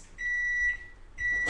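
Two clear electronic beeps from a kitchen microwave oven signalling it has finished, each a steady high tone lasting about half a second with a short gap between, heard alone and fairly close.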